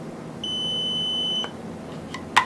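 A digital thermometer's done alert: a single steady electronic beep holds for about a second, followed by a couple of short clicks in a quiet room.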